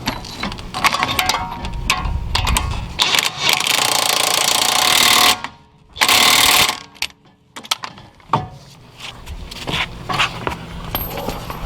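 A power tool tightening a 21 mm thrust arm nut on a Mercedes, loud rattling bursts of the tool with brief pauses and a sudden stop between runs.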